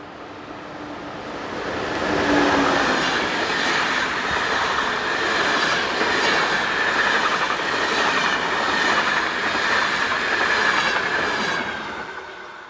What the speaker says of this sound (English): Sister locomotive number 1116-105 heads the 1456 Vienna to Klagenfurt into city service.